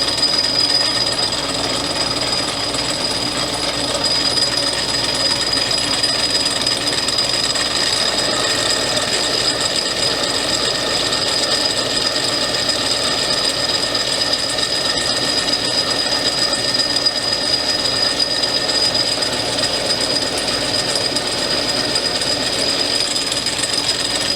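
Metal being knurled on a lathe during a heavier cut, a steady continuous grinding, rattling machine noise with a sharp high whine, loud and unbroken throughout with no talking.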